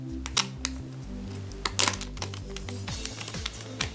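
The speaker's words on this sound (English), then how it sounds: "Just gonna go ahead and pull that out of there. So let's go ahead and unwrap this." A MacBook Pro USB-C power brick is unwrapped, with irregular close crinkles and sharp plastic rustles and taps in quick bursts.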